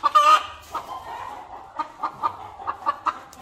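Chickens cluck inside a chicken coop, with a series of short, moderately close calls spaced irregularly and a louder burst of clucking at the start.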